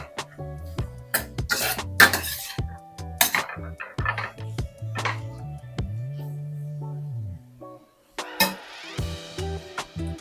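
Rice for Nigerian fried rice with vegetables is stir-fried in a pan, with a utensil scooping and mixing it in intermittent metallic scrapes, clinks and knocks, close and fairly quiet, with pauses between strokes.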